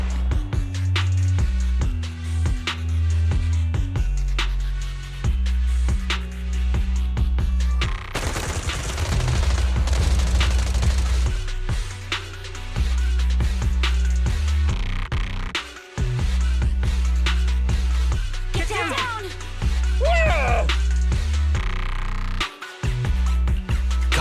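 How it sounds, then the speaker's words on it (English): Suppressive marching fire in the video game Zenless Zone Zero: rapid, sustained bursts of gunfire crackle over a pounding low music bed, with a loud blast of noise partway through and brief gaps near the end. "Gunfire? This pattern. Suppressive marching fire."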